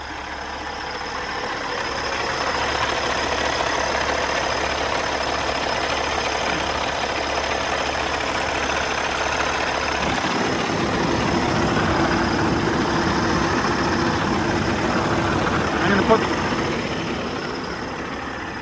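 A truck engine idles steadily and loudly up close with an abnormal noise, a constant rumble with a change in tone partway through as the noise grows rougher.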